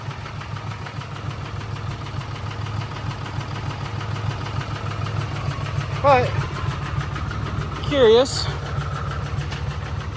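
A low, steady Cummins diesel truck engine idle rumbles throughout, with a person speaking briefly over it partway through.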